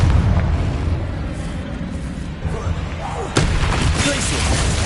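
The Confringo explosive spell blasts in Hogwarts Legacy during a troll fight. There is a rumbling boom, then a sharper, louder blast near the three-second mark, over constant low combat noise.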